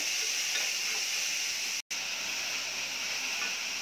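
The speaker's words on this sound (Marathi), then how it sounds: "हलकेसे ब्राऊन होईपर्यंत आपल्याला परतून घ्यायचे आहे।" Onions frying in a little oil in a pan give off a steady, even sizzle and hiss that runs unbroken apart from one brief dropout, with no voices over it.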